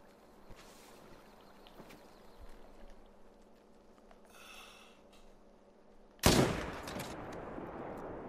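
A single loud rifle gunshot rings out in a hunting video game, fired at a bull, with a sharp crack followed by a decaying tail after a stretch of quiet ambience.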